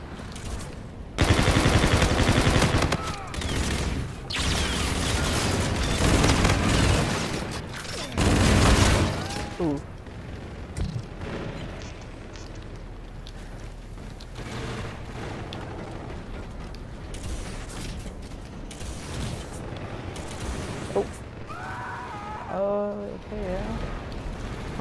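Rapid automatic gunfire on the Terminal map in Call of Duty: Infinite Warfare, with loud dense bursts early on followed by quieter scattered shots and game effects while a voice talks over them.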